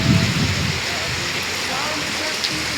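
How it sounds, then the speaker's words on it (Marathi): Heavy monsoon downpour in Mahad, a dense, steady roar of rain hitting surfaces, constant and close with a slightly louder rumble at the start and no clear speech. "आणि कंटिन्यू पाऊस चालू आहे. एवढं पाऊस चालू आहे ना"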